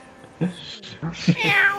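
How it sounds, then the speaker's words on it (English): A cat gives a few short meows that rise into a longer, louder mewing call, close to the microphone, with voices around it. "Let's get everyone's best cat noise."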